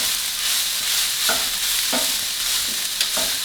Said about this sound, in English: Now I'm gonna stir this together to make sure that garlic doesn't burn.